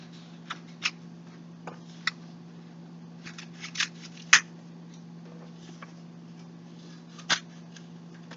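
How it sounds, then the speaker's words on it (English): Scissors make sparse, crisp snips as paper sections are cut for a Father's Day craft, each isolated cut close and sharp against a quiet low hum. "So you can go ahead and cut out your 3 sections."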